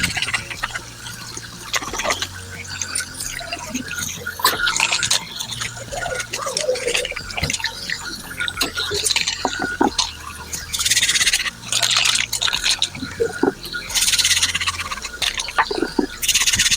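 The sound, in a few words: washing nail tools with soap under running water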